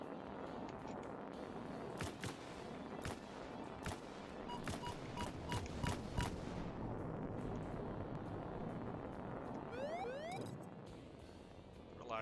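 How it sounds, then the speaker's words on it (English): Gunfire from an Ace Combat 5 arcade run: repeated sharp bursts crackle through a dense, steady wash of jet and battle noise, with a falling whistle-like sweep near the end. "Listen to all that gunfire."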